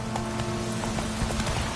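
Horse galloping in the video game Witcher 3, a quick run of steady hoofbeats up close with rain-like background noise underneath.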